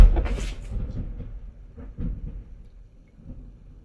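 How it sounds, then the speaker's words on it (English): A loud crack of thunder opens, then deep rumbling rolls on and off in the low range, fading and returning in a few bursts. "So we're in the middle of a thunderstorm right now"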